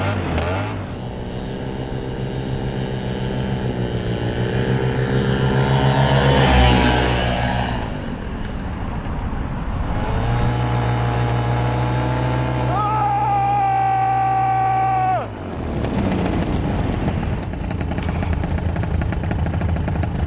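Paramotor engine and propeller revving up for takeoff on a runway, a loud buzzing drone that climbs and swells in pitch, dips, then surges again, close to the listener.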